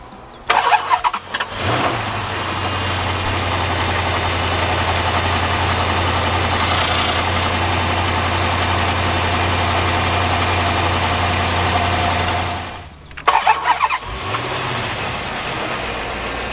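A 2006 Dodge Magnum SRT8 V8 cranks and fires, then settles into a steady, close idle for about ten seconds before shutting off and briefly restarting. No one speaks.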